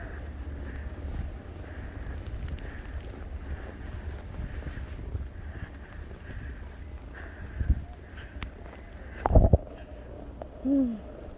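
Wind gusting through a Montreal snowstorm, a constant low roaring rush with a few sharp bumps and thuds near the end and a brief voice.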